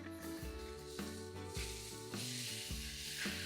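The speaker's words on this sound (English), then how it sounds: "We've been grilling here for about 6 to 7 minutes already." Fajita meat on the grill gives a quiet, steady sizzling hiss, heard beneath a tonal, musical-sounding background throughout.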